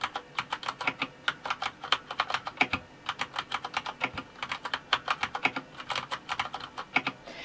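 Normal-speed typing on a quiet non-mechanical computer keyboard, close up, with a steady flurry of soft, irregular key clicks and brief pauses, and no voices.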